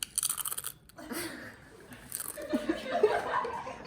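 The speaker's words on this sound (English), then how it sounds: "now take one giant crunch" Doritos chips crunch loudly in a series of close chewing bites, with soft chuckling mixed in toward the end.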